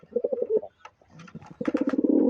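A pair of pigeons, one a newly brought white female, coo close by in low repeated bursts, with a pause and scattered softer calls before the cooing resumes more steadily.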